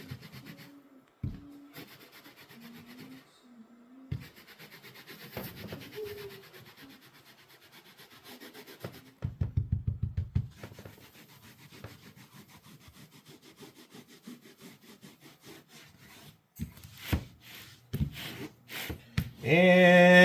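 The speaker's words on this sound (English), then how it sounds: "And just kind of scrub it out lightly." Light scrubbing of a carpet stain treated with spotter, soft rubbing strokes in short bursts with a few louder scuffs, close and fairly quiet with no talking.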